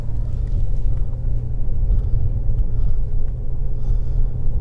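Car driving up Beechwood Drive in Hollywood toward the Hollywood sign, a steady loud low engine and road rumble continuing throughout with no talking.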